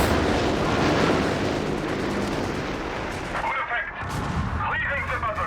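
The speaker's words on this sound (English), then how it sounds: "Oh, that's a strafing run there" A strafing run in the video game Company of Heroes 3, a dense roar of rapid gunfire and blasts that fades into scattered shots and rumbling, with a commentator's voice partly over it.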